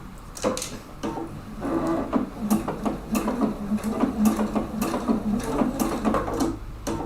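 A sewing machine stitches fabric in short, uneven bursts of rapid mechanical clatter with knocks and clicks in between, close and fairly quiet.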